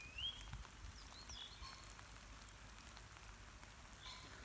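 Rain falls steadily on a garden after a squall, a faint even patter throughout, with a few distant bird chirps and no voices.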